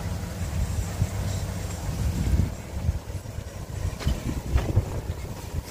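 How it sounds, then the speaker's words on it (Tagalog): Wind blows across an open rice field during harvest, a low, gusty rumble buffeting the microphone steadily throughout, with occasional faint sounds in the distance. "Sarap ng hangin"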